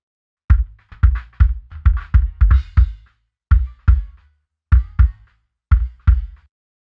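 A filtered kick drum layer with a boosted click repeats as sharp, punchy thumps. The hits come in an uneven groove with short gaps, and each one carries a bright attack over a low body.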